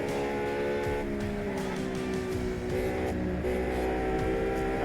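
The Lamborghini Miura sports car's engine drones steadily in the Test Drive Unlimited racing game, a sustained, loud, even tone that rises and falls slightly in pitch as the car drives.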